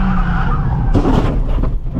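A Nissan 350Z skids at around 60 mph before crashing into a guardrail: a loud, harsh tire scrub and engine roar, then a broad scraping burst midway that trails off into rough noise.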